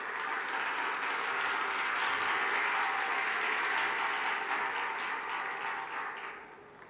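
Loud, sustained applause from an audience at a Punjab government event, a dense wash of many hands clapping that swells and then fades away near the end.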